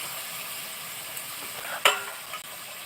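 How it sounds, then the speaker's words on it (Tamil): A medicinal kuzhambu, a Tamil spiced gravy, is stirred in a pan, giving a steady soft scraping and gentle sizzle with a brief sharp clink of the spoon near the end and no talk. "நல்லா கிண்டி விடணும்"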